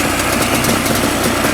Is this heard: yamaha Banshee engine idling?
yes